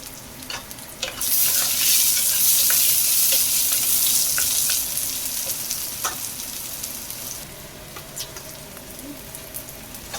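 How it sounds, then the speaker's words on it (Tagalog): Aromatics being sautéed in a pan for a chicken feet dish make a loud burst of sizzling and crackling that starts after a second, with scattered stirring clicks, then eases slowly. "Igisa natin guys ang mga recado."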